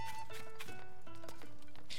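A horse in The Legend of Zelda: Tears of the Kingdom, with a run of quick hoof clip-clops mixed with game tones and a short whinny, heard close and clear without talk.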